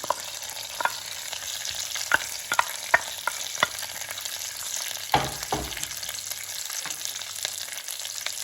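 Onions frying with pork belly in a pan, a soft steady sizzle broken by a run of scattered utensil scrapes and taps from stirring, one louder clatter near the middle, no talking.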